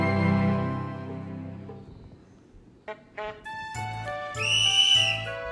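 A steam engine's whistle at a country railway station, sounding as a long, shrill harmonic tone with a couple of short toots and a final sustained blast, fairly loud and alone with no talk.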